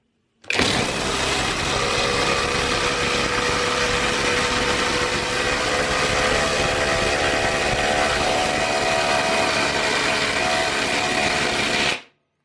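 A Parkside cordless power tool running on an old 4Ah battery drives a long socket, giving one continuous, loud, high whine that starts abruptly, holds steady for about eleven seconds, then cuts off sharply.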